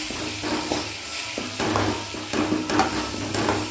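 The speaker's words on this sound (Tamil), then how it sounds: "போட்டு இப்போ நல்லா மிக்ஸ் பண்ணுவோம்." Yippee instant noodles sizzle in a pan as masala is stirred through them, scraping strokes repeating over a steady frying hiss, close and alone without speech.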